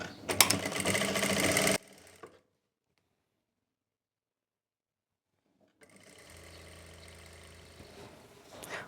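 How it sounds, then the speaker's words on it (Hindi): Sewing machine stitching the folded half-inch hem of open palazzo pants, a close steady whir that runs for a couple of seconds, falls silent for several seconds, then resumes more quietly to the end. "यहाँ से सिलाई लगाना स्टार्ट करना है"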